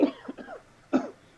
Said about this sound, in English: I'm taking a drink. I start coughing.